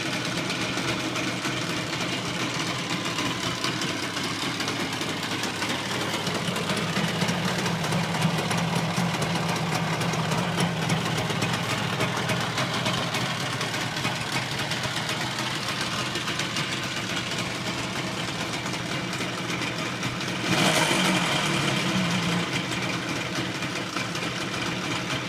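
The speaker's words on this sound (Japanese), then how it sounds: "少しアイドリングが低いようですが、まだエンジンが温まっていないからかもしれません。" A Suzuki RG250E motorcycle engine, still cold, idles steadily and slightly low for about 25 seconds, a constant throbbing rumble that briefly swells louder near the end.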